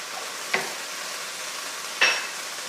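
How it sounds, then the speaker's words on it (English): Mediterranean tomato sauce stirred into shirataki konjac noodles in a hot pan, with a soft continuous sizzle broken by two distinct scraping clinks of the utensil against the pan, close and fairly quiet. "give that a bit of a stir up"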